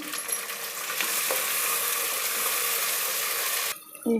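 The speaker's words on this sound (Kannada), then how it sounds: "ನಾನೀಗ ತೊಗರಿ ಕಾಳನ್ನ ಸೇರಿಸ್ತಾ ಇದ್ದೀನಿ ಒಗ್ಗರಣೆಯಲ್ಲಿ ಸ್ವಲ್ಪ ಫ್ರೈ ಮಾಡ್ಕೊಳ್ತೀನಿ" Pigeon peas being fried in a tempering of oil with half-cooked onion, a loud continuous sizzle close by that cuts off abruptly near the end, with no voices.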